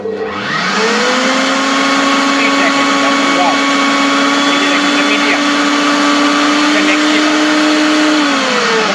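A Kiam electric blender runs at low speed, its motor whining loud and steady after spinning up in the first second, with a person speaking faintly underneath.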